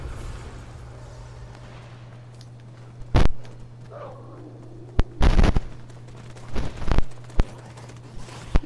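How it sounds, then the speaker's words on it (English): Gunfire in the Fortnite video game: several sharp, isolated shots and a short burst, scattered irregularly over a steady low in-game hum, fairly loud and near. "I hear gunshots."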